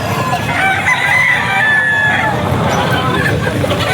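Rooster crowing amid the hubbub of a busy open-air pet market, with other fowl clucking and a steady crowd babble beneath; the long crow rises clearly over the constant background noise.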